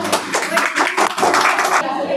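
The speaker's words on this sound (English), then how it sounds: "Let's welcome her with a big round of applause." An audience at a school Independence Day speech competition claps to welcome a speaker onto the stage, a burst of close, uneven hand claps mixed with voices that stops abruptly near the end.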